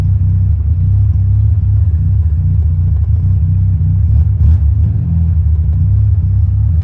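A 1979 Mazda RX-7 rotary engine idles steadily at close range, giving a loud, continuous low rumble with a slight dip in idle speed partway through and no talk over it.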